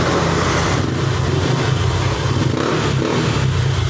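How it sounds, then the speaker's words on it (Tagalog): A Honda Click i125 v3 motorcycle engine with a loud Dyno Pro aftermarket exhaust rumbles and revs steadily, close by and with no talking. "Yon, ang tunog ng ating pipe."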